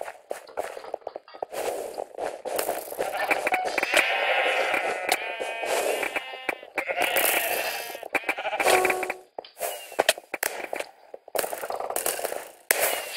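Sheep in a Minecraft minigame bleat repeatedly in short wavering calls, several overlapping at close range, with a few light taps and footstep-like clicks between them and no talking.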